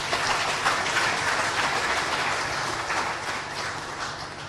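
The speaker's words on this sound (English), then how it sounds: "I want all of you to give him a round of applause." Sustained, dense applause from a large crowd at a ceremony where the Oba of Benin receives returned artifacts, a steady roar of clapping at even loudness that eases slightly toward the end.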